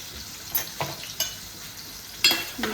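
Onion, ginger and garlic paste sizzles in hot oil with a close, steady hiss, broken by several sharp scraping stirs of a utensil in the pan.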